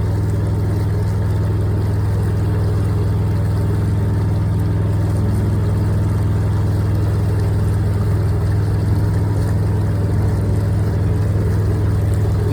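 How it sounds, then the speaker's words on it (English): A small plastic motorboat speeding past on a canal: a continuous low, throbbing motor drone, close and loud, holding steady with no talking. "There's got to be a boat there. I can see some wash from it."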